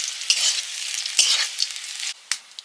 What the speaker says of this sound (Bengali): শাকগুলো ভাজা হয়ে গেছে,